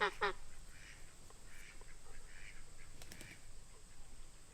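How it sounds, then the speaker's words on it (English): Geese honk faintly in the distance on a farm, a few scattered calls over a quiet outdoor background with a brief burst of nearby noise at the start. "Here come the geese."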